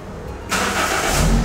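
A Toyota Etios starts with the ignition: a brief cranking, then the engine catches and settles into a loud, close idle.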